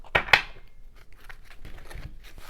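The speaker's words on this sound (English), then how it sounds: "Some shuffling" Watercolor tarot cards are shuffled by hand, two sharp riffling bursts up front followed by softer intermittent card rustles and taps, close and fairly quiet.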